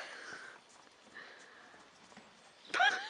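A horse gives a short, loud whinny near the end, close by, after a stretch of soft snuffling and low stable noise.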